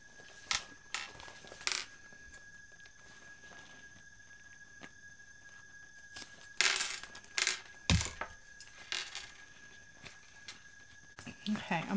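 Scissors trimming fabric while sewing a BeHip 2.0 bag, a run of faint sharp snips and clicks in irregular bursts, close by with no talk.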